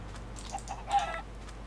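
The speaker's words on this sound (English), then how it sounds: "I found another chicken!" Chicken clucking in the Minecraft video game, a few short faint clucks over a steady low background hum, no talk.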